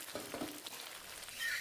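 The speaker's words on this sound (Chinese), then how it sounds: "油热以后下入豆腐煎一下" Tofu sears in hot oil in a heated iron wok, giving a low steady frying hiss that swells slightly toward the end, quiet and with no voice.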